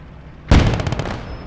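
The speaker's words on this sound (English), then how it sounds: "Oh, they're shooting my truck." A single sharp gunfire-like blast from the Gates of Hell war game, a loud close burst with a short rattling decay and no talk.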